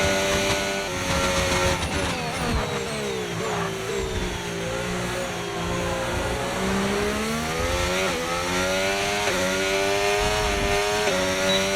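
A Formula 1 car in the F1 25 video game on a gentle tyre management run at Japan, its engine whining steadily and rising and falling through gear changes, loud and continuous with no talk.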